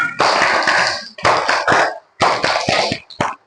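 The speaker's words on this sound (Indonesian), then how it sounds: "Yuk semuanya tepuk semangat" A classroom of students stands and claps a rhythmic spirit clap, loud patterned bursts of quick claps in three groups separated by brief pauses, close and without talk.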